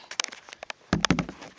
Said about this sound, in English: Sorry about that noise hitting against the box.